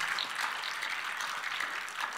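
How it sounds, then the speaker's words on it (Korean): Church congregation applauding during a Korean revival service, a steady wash of many hands clapping, moderately faint and continuous with no voices over it. "그분께 영광의 박수 한번 올려드립시다"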